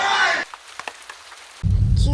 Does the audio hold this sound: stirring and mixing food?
no